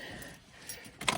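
Car keys jangle close by during a car battery change, a soft metallic rattle that swells into a brighter burst of clinking at the end, brief and alone.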